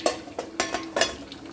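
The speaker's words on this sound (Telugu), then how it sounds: "పోపుగా ఇక్కడ ఆయిల్ వేసి ఉంచిన 4 వెల్లుల్లిపాయలు దంచిన, జీలకర్ర ఆవాలు వేసుకుంటే సరిపోతుంది" Crushed garlic, cumin and mustard seeds sizzle in hot oil as a tempering, with a few sharp utensil scrapes and stirs in a quick uneven rhythm, near and without talk.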